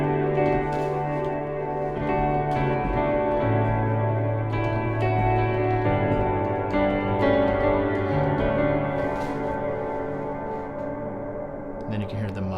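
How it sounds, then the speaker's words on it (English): Electric guitar played through a Strymon BigSky pedal on its plate reverb with the decay turned all the way up, sustained notes and chords blooming into long, lingering washes that overlap and slowly fade. "we can dime this guy and we can get reverb tails that are super long"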